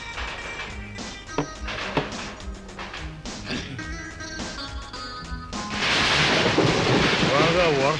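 A thunderstorm rumbles with sharp cracks of thunder in a film scene, then heavy rain bursts in as a loud, dense, steady roar filling the last few seconds.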